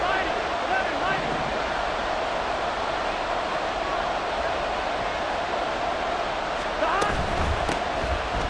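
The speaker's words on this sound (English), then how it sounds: "This crowd turning up the decibel level" A stadium crowd in the football game Madden NFL 24 gets loud on a third-and-long play, a steady wash of roaring noise with a sharp thump near the end.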